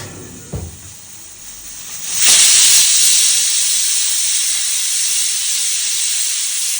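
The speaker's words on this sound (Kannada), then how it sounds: "ವಿಜಿಲ್ ನೋಡಿ ಬರ್ತಾ ಇದೆ" After a single knock, a pressure cooker whistle bursts into a loud, steady hiss of escaping steam that holds on for several seconds, close and continuous with no talk.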